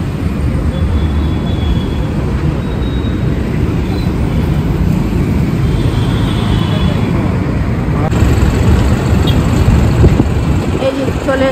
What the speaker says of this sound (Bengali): ট্রাফিক যাচ্ছে